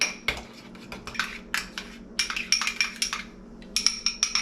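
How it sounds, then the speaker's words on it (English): A utensil stirs tartar sauce with lemon juice in a bowl, giving quick ringing clinks and scrapes in uneven bursts that settle into a faster rhythmic tapping toward the end, close, with no speech. "And then juice from one lemon wedge. So mix that up really well."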